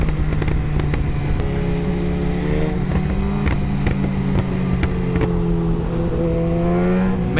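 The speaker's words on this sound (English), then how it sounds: "the Brock's exhaust on the 25 gsxr 1K sounds so crazy" Suzuki GSX-R1000 superbike from 2025 with a Brock's exhaust at a car meet, revving hard in repeated rising and falling blips over a loud, steady engine rumble, close and dominant.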